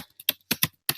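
Keys tapped on a computer keyboard while typing into a web store search box, a few crisp close clicks in a quick irregular burst with no talk.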